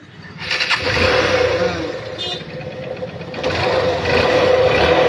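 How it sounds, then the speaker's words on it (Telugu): A motorcycle engine starting after a ride, catching and settling into a steady mid-pitched idle with a slight rev partway through, close by with a voice talking over it. "ఇప్పుడు అలా ఒక రౌండ్ వేసి వచ్చిన తర్వాత స్టార్ట్ చేసి చూపిస్తాను మీకు"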